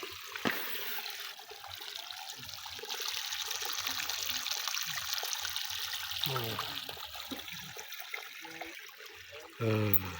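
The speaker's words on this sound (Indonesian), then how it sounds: "Bisa sahabat lihat ini empang kecil, tapi airnya sangat deras sekali ya" Swift water rushes steadily through a small village pond, a continuous broad wash that holds at an even level across the whole stretch, with a few brief louder splashes breaking through near the start and the end.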